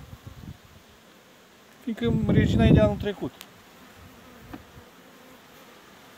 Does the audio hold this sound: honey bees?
yes